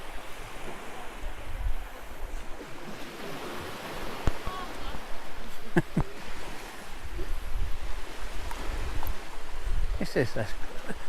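Sea waves wash against the shore at a small Cornish coastal village, a steady broadband surf rush with gusts of wind buffeting the microphone and a few brief knocks over it.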